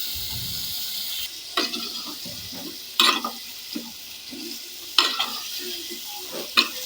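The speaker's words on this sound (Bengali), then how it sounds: "মশলাটা কষানো হয়ে গিয়েছে এখন আমি এর মধ্যে ভেজে রাখা তরকারিটা দিয়ে দিলাম" Fried vegetables are stirred into a sizzling spice masala in a pan, with a steady hiss broken by sharp scraping strokes of a spoon at irregular intervals, close and without talk.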